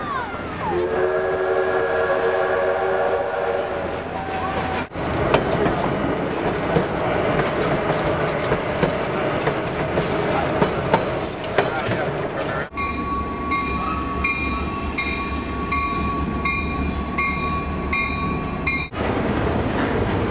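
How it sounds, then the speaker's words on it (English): A train passes along the rails, with clattering wheels and a steady rumble, while a whistle or horn sounds at the start and again near the end; the scene cuts abruptly between segments. "Across America, trains carry people and freight from one place to another."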